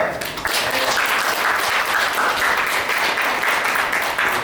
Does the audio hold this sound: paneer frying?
no